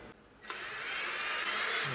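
A power drill bores through a 3D printed plastic differential shaft, starting after a brief quiet moment with a sudden high whirring, steady and close, grinding on to the end.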